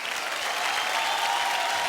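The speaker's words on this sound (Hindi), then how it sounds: "एक बार जोर से तालियां।" Children and an audience on a school quiz programme break into loud, continuous applause after a correct answer, a thick, even roar of clapping with a faint crowd murmur underneath and no talking.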